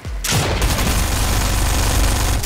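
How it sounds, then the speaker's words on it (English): Dense, loud gunfire rattles through a video game shootout, an almost continuous barrage after a sudden onset that cuts off near the end. "People are shooting onto us"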